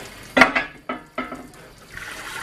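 Cast iron cookware is rinsed under water, with a few short splashing bursts and clattering contacts followed by a softer trickling stream nearby.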